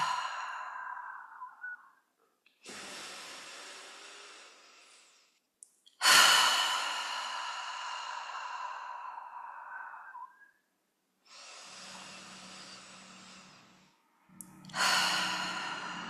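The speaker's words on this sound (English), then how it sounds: "We're going to take a few deep breaths here. Each exhale, you can sigh that air out." Slow, deep breaths alone in a quiet room, each long inhale followed by a soft, audible sighing exhale, repeated in an unhurried rhythm with silent gaps between.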